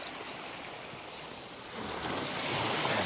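Beach waves wash in with a steady, hissing surf roar that swells louder toward the end, alone without voices.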